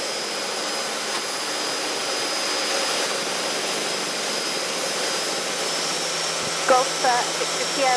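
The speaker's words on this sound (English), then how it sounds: "The RPM, jet pipe temperatures and oil pressures are monitored during the takeoff, and the nose is raised above 75 knots." A Jet Provost JP5 jet trainer accelerates on its takeoff run, a steady, loud broadband jet roar holding throughout, with brief chirping sounds near the end.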